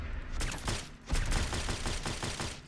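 Crusader Pistol fitted with a suppressor in Fallout 4, firing a quick series of sharp, fairly loud shots at an even rhythm, about six or seven in under three seconds.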